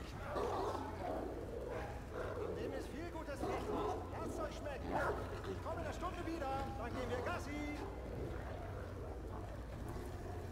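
Dogs in the video game Wolfenstein: The Old Blood bark, yip and whimper over a busy game soundscape, with someone talking across much of it.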